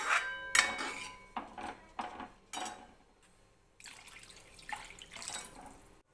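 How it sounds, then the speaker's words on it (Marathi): Several glasses of water poured into a cooking pot in a home kitchen, arriving as a string of short splashing bursts with clinks of the vessel, then a steadier pour near the end. "आणि यामध्ये टाकायचं आता 3-4 ग्लास पाणी"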